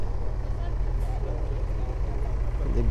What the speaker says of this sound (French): gros moteur V8.